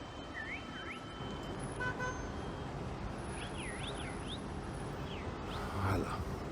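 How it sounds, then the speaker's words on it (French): Steady traffic rumble on a road in East Jerusalem on the Mount of Olives, with several wavering siren-like alarm tones and short horn toots rising over the continuous engine noise. "tout ça ce sont des voitures musulmanes"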